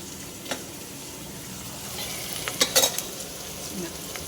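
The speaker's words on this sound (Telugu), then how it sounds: "ఆనియన్ అయితే మంచిగా ఫ్రై అయిన తర్వాత మనము ఆనియన్ పేస్ట్ అయితే వేసుకోవాలి" Onion paste frying in a pan together with already fried onions for a lamb trotters stew, giving a steady soft sizzle with light stirring scrapes and a few brief clinks, close but fairly quiet, with no talk.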